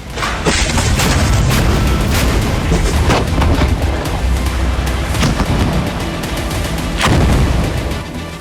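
Tank cannon shelling during the Gaza war, with repeated loud booming blasts and sharp reports landing irregularly over a dense, rumbling background.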